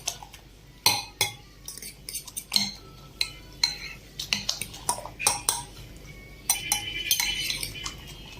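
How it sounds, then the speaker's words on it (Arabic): A utensil stirs a vegetable and egg pie mixture in a bowl, giving a run of bright clinks and scrapes that come close and loud in an uneven rhythm with no talk. "وهنخلط الخليط مع بعضه"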